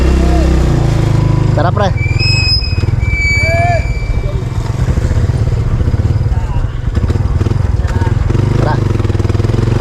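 A motorcycle engine runs steadily and close by with a low, continuous throb throughout, while people talk over it.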